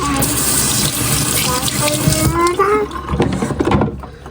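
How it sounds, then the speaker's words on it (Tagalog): Hands being washed under a running tap at home in Japan, steady splashing water with shifting pitch as the hands move through the stream, then trailing off, with voices and movement mixed in. "Wash your hands."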